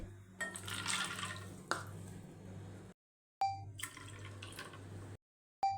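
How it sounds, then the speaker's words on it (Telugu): Water is poured onto washed white chickpeas in a bowl. It comes as two close bursts of splashing and trickling, each cut off by a brief silence, with no voices. "2 కప్పుల నీళ్లు పోసి"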